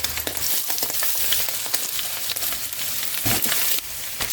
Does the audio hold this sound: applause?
no